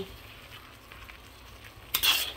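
Bacon and mushroom frying in a pan for homemade pasta, a quiet steady sizzle that swells into a brighter, louder crackle near the end.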